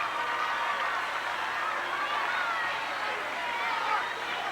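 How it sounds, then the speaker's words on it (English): A gym crowd at a 1994 state boys basketball championship gives sustained applause mixed with cheering and babble. The sound is a broad, steady roar that swells slightly near the end. "Justin Haynes leaves to a well-deserved round of applause."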